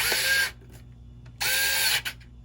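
A Fanttik NEX E2 Ultra electric screwdriver on its highest torque setting driving small machine screws, two short whirring bursts of the motor separated by a quiet pause, close and alone.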